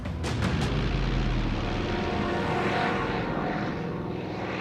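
Propeller-driven WWII Stuka dive bombers roar overhead in archival footage, a loud, steady broadband drone with a few sharp transient bursts near the start.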